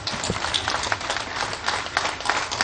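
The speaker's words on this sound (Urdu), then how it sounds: "بھرپور تالیاں" An audience at a Punjab Police ceremony gives brisk, continuous applause, many hands clapping close by in a steady dense patter.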